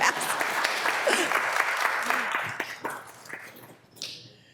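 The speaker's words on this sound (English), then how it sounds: "Yes, please clap." Audience clapping for Danielle Talliard of the Legal Aid Society of San Diego County at a city meeting, loud at first and then thinning and fading out, with a few scattered claps near the end.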